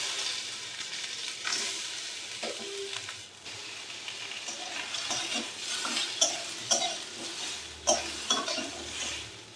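Green mango pieces dropped into hot oil with a spice tempering, sizzling steadily while being stirred, with occasional sharp scrapes and clinks of a utensil against the pan.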